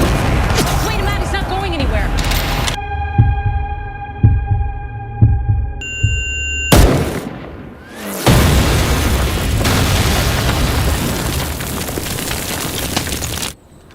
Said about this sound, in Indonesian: Bob mulai menembaki mereka yang berada di dalam pondok